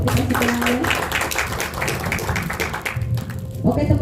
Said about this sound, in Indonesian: Semuanya tepuk tangan untuk kita semuanya.